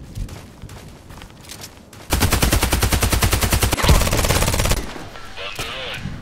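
H&K UMP45 submachine gun in the Contract Wars video game fires a rapid sustained burst of about two seconds, loud and close, between quieter scattered game sounds before and after.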